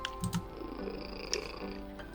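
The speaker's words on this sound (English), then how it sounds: "I could purr all day and night." Steady low purring from a cat in a video game runs under light game background tones, with a couple of soft clicks near the start and no talking.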